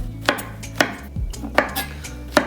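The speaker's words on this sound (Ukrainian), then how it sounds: "За той час, поки у нас розігрівається сковорідка, наріжемо грибочки." A kitchen knife chops champignon mushrooms on a cutting board, with five crisp, evenly spaced blade strikes over a couple of seconds and a low sizzle from a heating frying pan underneath, close and clear with no talking.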